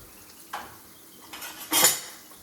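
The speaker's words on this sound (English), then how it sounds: "I'm going to gently move my gnocchi so it doesn't stick to the bottom" Gnocchi gently pushed around a pan with a utensil on a low stove, a few soft scrapes building to one brighter metallic clatter, close and fairly quiet.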